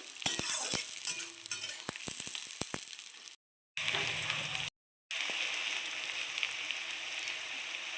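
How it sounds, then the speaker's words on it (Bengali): Onions stirred as they fry in a pan for chicken biryani: a steady, close sizzle with scattered scraping clicks of the spoon, broken by two short silent gaps. "পেঁয়াজটাকে ভালো করে নেড়ে দেবো।"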